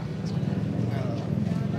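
Horse hooves clip-clop faintly on a pedestrian walking street in Indonesia, a steady run of light knocks beneath close conversation and street background.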